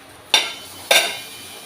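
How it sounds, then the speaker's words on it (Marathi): Lid set onto a pot of steaming brinjal bharit in a home kitchen: two sharp metallic clanks about half a second apart, close and fairly loud, each fading quickly over a quiet background. "आता परत दोन मिनिट झाकण ठेवते"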